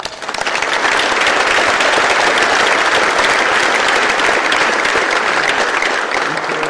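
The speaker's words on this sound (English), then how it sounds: "I really want to applaud them for that." Sustained applause from a large audience at a financial-services panel event, a steady loud wash of many hands clapping that swells in within the first second and holds evenly to the end.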